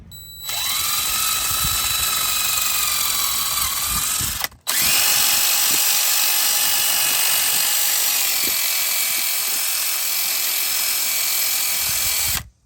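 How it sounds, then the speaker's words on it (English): A power wire brush scrubs rust off the tie rod of a 2018 Chevrolet Silverado 1500, giving a loud, steady high-pitched whirring grind that cuts out briefly partway through, then runs on to the end with no talk. "A little bit of the old wire brush treatment should take care of this real quick."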